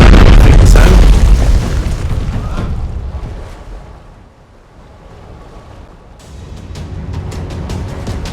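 Enemy warships are blown up in the Pacific naval strategy game Strategic Mind: The Pacific. A heavy, deep boom opens loud and rolls away, then a fresh volley of crackling blasts and bursts builds again.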